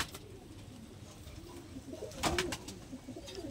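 An old-generation Giribaj pigeon coos in low, soft murmurs that run steadily through the moment, with a brief sharper burst of clatter near the end and a faint background hum.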